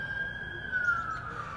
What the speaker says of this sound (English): the sirens going off in the distance